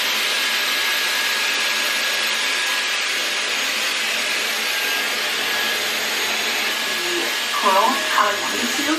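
A Dyson Airwrap hair styler blows continuously while curling hair, a loud, even whooshing airflow close to the microphone, with a brief voice near the end.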